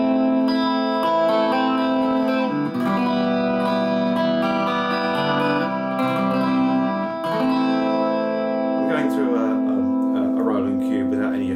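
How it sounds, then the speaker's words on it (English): A bright, shimmering 12-string electric guitar on the bridge pickup strums sustained chords, with a jangly doubled ring and steady volume throughout. "Let's have a listen to it on the bridge pickup."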